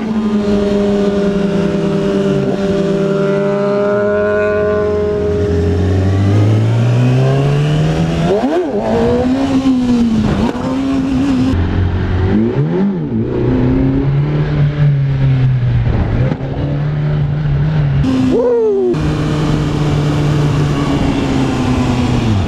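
Motorcycle engine revving hard through a steep wheelie that nearly loops over, loud and close, with rising and falling pitch sweeps and sharp throttle blips.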